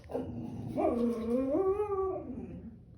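A pet dog indoors gives a drawn-out, rising and falling whine that bends into a howl-like whimper, close and fairly loud, with no talking.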